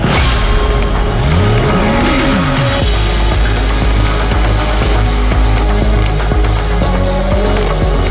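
Porsche fitted with Tequipment performance parts driving hard on a racetrack, loud engine rising and falling through gear changes and revs, close and continuous with no talking.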